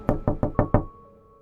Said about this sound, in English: I heard a knock from the front door.